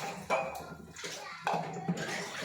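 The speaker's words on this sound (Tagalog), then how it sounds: "maghuhugas muna tayo ng plato" Dishes being washed under running water at a home sink: splashing flow and clinks of plates come in bursts, close up, with a voice faintly audible in the background.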